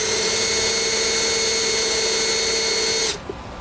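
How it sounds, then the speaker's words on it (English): A power drill drills out door panel clips on a 2019 Subaru Crosstrek, a loud steady high whine running close for about three seconds before stopping abruptly. "That's about how much you want to drill right there."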